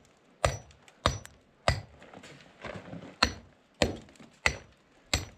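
A Scotch hammer dresses stone during a ruin restoration in Portugal. About eight sharp, loud strikes ring out at an uneven, steady pace, with quieter scraping and chipping between blows and no talking.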